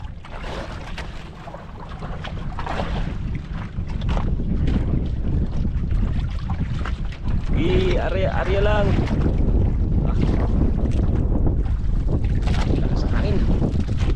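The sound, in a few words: strong wind blowing at sea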